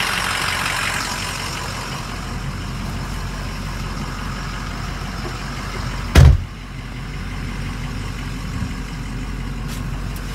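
Continuous engine and road rumble inside a 2006 Ford F-350 Lariat pickup truck on a test drive, a steady hum broken by one sharp thump partway through, with no talking.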